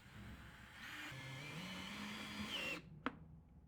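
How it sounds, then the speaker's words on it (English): Screws driven with a power driver through a metal L bracket into a side cabinet: a steady whirring drive lasting almost three seconds, then a brief pause and a single sharp knock, close and fairly quiet. "Now screw in 2 screws through the bracket and into the cabinet itself"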